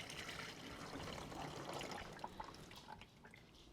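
Water trickling and splashing out of a flatfender Jeep's gearbox, a steady close pour that thins into scattered drips toward the end.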